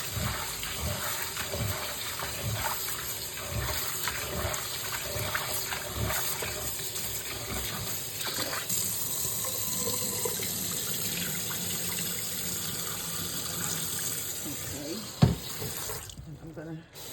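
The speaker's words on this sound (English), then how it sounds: "I'm washing my spinach, my baby spinach" Tap water runs into a kitchen sink while baby spinach is rinsed under it. A continuous close gush of water lasts throughout, with small splashes and one sharp knock near the end.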